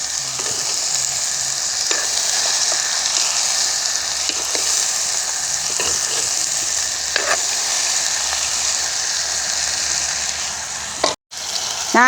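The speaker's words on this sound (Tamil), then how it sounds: "நண்டை சேர்த்து நல்ல பிரட்டி விடுவோம்" Crab is stirred and fried in a pan, giving a loud, continuous close sizzle broken by occasional scrapes and clinks of the spoon against the pan.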